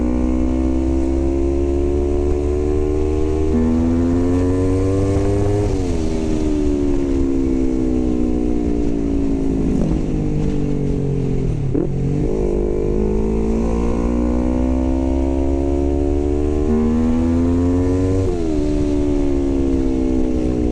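A Yamaha R25 motorcycle with an electrical fault, affecting the clutch and regulator, runs its engine continuously and loud, revving up and down in several rising and falling sweeps without talk.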